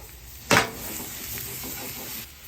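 Half a shallot drops into hot ghee in a skillet set on a flat-top griddle, a sharp crackling burst at first that settles into a steady, close sizzle with no talking.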